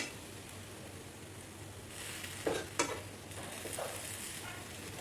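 Snack pieces roast on a hot pan with a soft, steady sizzle, and a few brief scraping turns stand out partway through, quiet and close with no voices.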